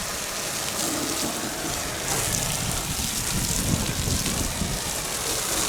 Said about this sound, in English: And the tighter you squeeze, the more foaming it's gonna get.